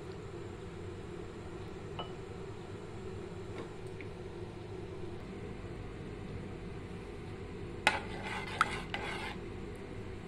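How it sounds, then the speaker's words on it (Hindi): A spoon stirs custard in a pot, a soft continuous scraping and swirling close by, with a few sharp clinks of metal on the pot near the end; no talking. "तकरीबन 5-6 मिनट मुसलसल चम्मच नू बस हिलाते रहो अच्छी तरह ताकि नीचे ना जमे"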